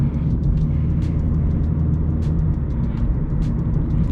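A 2012 Mitsubishi Lancer 1.6 with a four-speed gearbox drives along, a steady low engine and road rumble heard from inside the cabin, with faint repeated light ticks over the drone.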